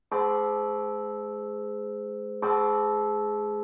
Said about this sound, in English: When the cathedral clock struck 12, there was an answer, like an echo of the chimes, and Simpkin heard it